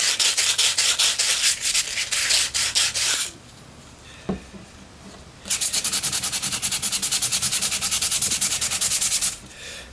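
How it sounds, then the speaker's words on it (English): Sandpaper rubbed by hand over a cracked wooden staircase baluster in fast rhythmic scratchy strokes, close up, in two bursts separated by a pause with a single knock. "and then just lightly sand"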